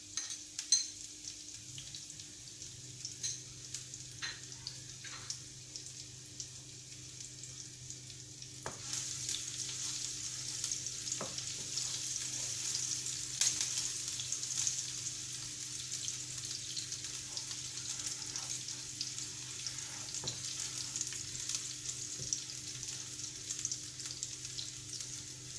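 Diced onion and garlic frying in a pan for homemade pizza sauce, a quiet continuous sizzle that grows a little fuller partway through, with faint occasional clicks and a low steady hum beneath.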